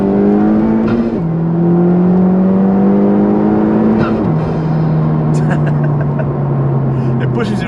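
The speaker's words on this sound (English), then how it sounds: "you can hear the blow off and the sort of unique induction noise coming from the Venturi" A Honda Civic Type-R FK2 pulls hard from inside the cabin, its loud engine drone climbing in pitch through two gear changes, with a turbo blow-off hiss and Venturi-inlet induction whoosh between shifts and brief talk in the car.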